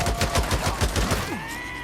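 Rapid gunfire in Days Gone, a quick burst of about eight sharp shots in steady rhythm, loud and close, followed by a ringing tail with no talk.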